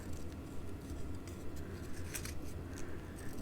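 Scissors cut through card paper around the bottom edges of a handmade greeting card, giving quiet, close snips with short pauses between cuts.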